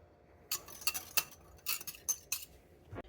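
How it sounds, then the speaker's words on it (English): A whisk clinks and scrapes in quick, irregular strokes against a pot of heavy cream, sweetener and salt, close and crisp over a quiet background. "Want to whisk all that together and heat it to just a light boil."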